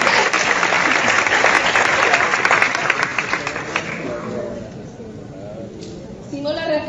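An audience at an Amway entrepreneurship event bursts into dense applause that fills the first few seconds, then thins and fades as voices come through.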